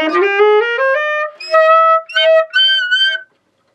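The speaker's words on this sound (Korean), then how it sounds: "이 무는 포인트에서 내가 조금만 깊게만 들어가도 소리가 삑사리가 납니다" A saxophone played with the mouthpiece taken too deep gives a series of reedy tones in the upper register, with short breaks and squeaky jumps in pitch between a few sustained notes, played alone and close.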